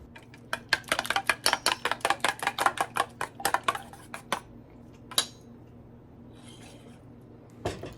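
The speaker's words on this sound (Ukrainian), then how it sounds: "Збиваємо яєчко. Не сильно так собі збиваємо, щоб було до однорідної маси." Eggs are whisked in a bowl, a quick run of rhythmic metallic tapping and clinking up close, then a pause broken by a couple of isolated clinks.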